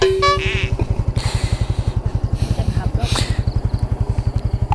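A Yamaha Fine motorcycle runs with a steady, close, rapid single-cylinder putter at an even rhythm while people talk over it.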